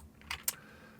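Two quick keyboard key presses, crisp and close, a short click followed by a sharper one, then quiet room tone.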